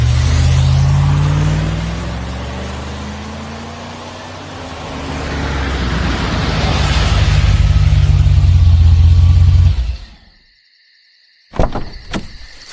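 A car engine runs at a low, steady drone and swells as the vehicle pulls away, loud and close, then cuts off abruptly into silence, with a brief clatter near the end.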